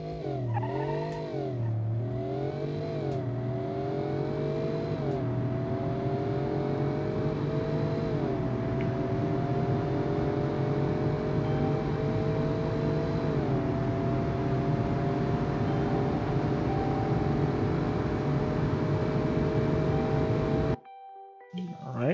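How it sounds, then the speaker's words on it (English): A naturally aspirated V16 engine in a pickup in BeamNG.Drive drones and revs continuously, its pitch rising and falling through gear changes before cutting off near the end, with a voice talking faintly over it. "what we have is a V16 under the hood, naturally aspirated of course"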